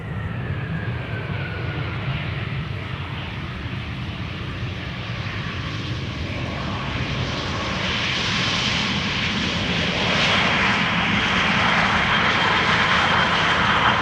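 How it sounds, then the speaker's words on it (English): An easyJet airliner arriving from Venice lands at Amsterdam Schiphol, its engine roar a broad steady rumble that swells louder toward the end, with no talking. "easyJet just now landed, coming in from Venice"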